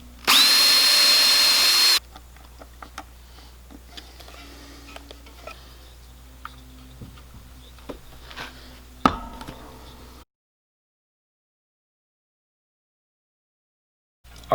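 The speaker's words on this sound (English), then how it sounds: "3/32 drill bit again." A power drill with a 3/32 drill bit, used on a DIY bass guitar kit, gives a loud, steady whine for about two seconds. Quieter workshop handling noises follow, then silence.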